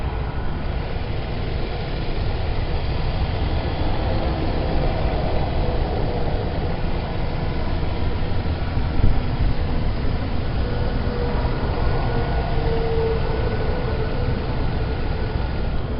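A Dodge engine fitted with a cold air intake idles smoothly, giving a steady, even low rumble that holds unchanged for the whole stretch, with no talking.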